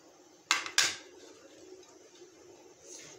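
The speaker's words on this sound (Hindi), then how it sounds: "तो अब हम अपनी कढ़ाई में डालेंगे सबसे पहले प्याज।" Onions go into a kadai for bitter gourd and potato sabzi: two sharp metallic clanks of a spoon against the pan, then a faint low background with a soft scrape near the end.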